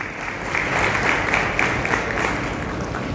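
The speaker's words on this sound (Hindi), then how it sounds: "जोरदार तालियां" An audience claps loudly and steadily at an award felicitation ceremony in Bhind, welcoming a newly selected honoree onto the stage; dense applause fills the whole stretch with no voices over it.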